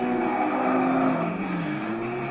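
A Honda Integra Type R races in Tokyo Xtreme Racer Drift 2, its engine holding a steady loud drone with a shifting pitch through the whole stretch, with no talk.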